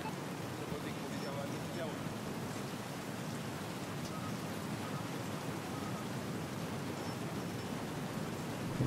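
Rain falls in the video game Battlefield Hardline as a dense, even hiss of downpour that fills the whole stretch at constant loudness, steady and unbroken throughout.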